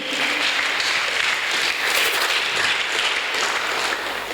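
Church congregation applauding in acclamation during a sermon, a steady dense wash of clapping that holds evenly throughout without breaks.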